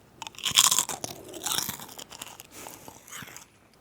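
A Lay's potato chip is bitten and crunched up close, a loud crisp snap followed by several rapid chewing crunches that fade out.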